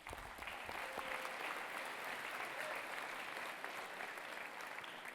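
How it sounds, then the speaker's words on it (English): Audience applause at a tribute dinner for a health award, a steady wash of many hands clapping that holds evenly throughout, moderately loud and continuous with no voices rising above it. "Another round of applause for Gus,"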